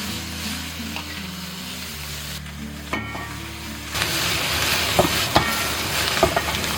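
River shrimp frying in hot oil in a wok over medium heat, a steady sizzle that swells louder partway through with occasional sharp pops and spatters, no talk.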